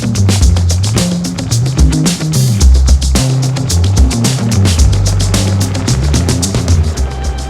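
Vehicle carrying an OutfitR e-bike rack drives a gravel loop road, with a steady engine and road rumble plus frequent rattles and bumps from bouncing over the surface.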